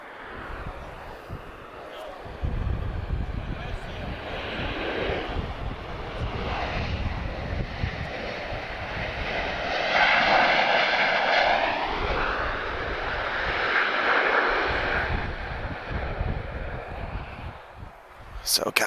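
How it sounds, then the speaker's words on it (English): A Ryanair airliner lands in a crosswind at Lisbon Airport: a broad, steady jet roar that swells midway and then fades, with faint talk in the background. "Okay, Ryanair, let's see how you do in these crosswinds. Nice and smooth, Ryanair."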